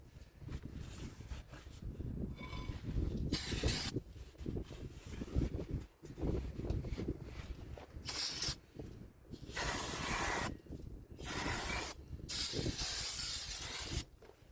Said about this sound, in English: spray a little brake clean on this.